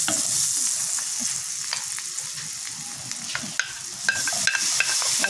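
Onions sizzle and fry in butter in a pan for spicy scallops, a steady crackling hiss with occasional sharper pops and stirring sounds throughout, close and fairly loud with no talk.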